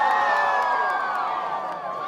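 Football crowd cheering and shouting near the sideline at a Friday night high school game, a dense, steady roar of voices sustained throughout with whoops rising above it.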